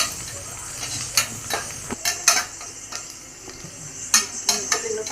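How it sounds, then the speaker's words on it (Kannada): Onions frying in a pan for a mushroom biryani, stirred with a utensil: a steady hiss of sizzling with sharp metallic scrapes and clinks against the pan at irregular intervals, close by, with no talking. "ಈರುಳ್ಳಿ ಎಲ್ಲ ಫುಲ್ ಫ್ರೈ ಮಾಡಿಬಿಟ್ಟು ಹಾಕ್ಕೊಳ್ತೀನಿ"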